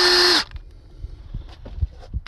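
Power tool zipping down cylinder head bolts on a Dodge Nitro engine, a short loud whirring burst that stops abruptly, followed by faint clicks and knocks of handling metal parts.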